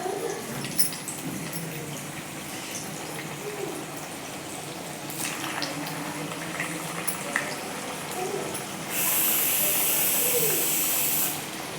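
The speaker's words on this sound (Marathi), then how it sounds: "आपण यात छोटे छोटे तळलेले पीसेस टाकूयात तळायला." Small dal baati pieces sizzle in hot oil in a wok, a steady hissing fry with crackles that swells louder toward the end.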